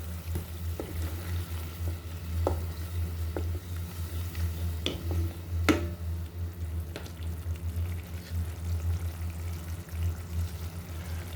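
Shing fish fries in a pan with spices as turmeric powder is added, producing a low, steady sizzle under a constant hum, punctuated by occasional soft taps and clinks of a utensil.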